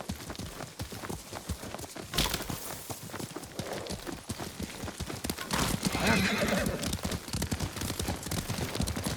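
A horse gallops and neighs in the video game Ghost of Tsushima, with steady rapid hoofbeats and a loud whinny partway through, set against busy ambient game sound.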